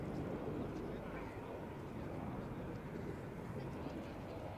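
Red Arrows RAF aerobatic jets coming in to land at an air display, a steady broad jet roar that holds level throughout, fairly distant and unbroken.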